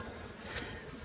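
Honey bees from a shipped package buzzing during hive installation, a dense continuous hum, close and steady, with no voices.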